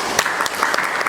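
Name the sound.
applause for the speaker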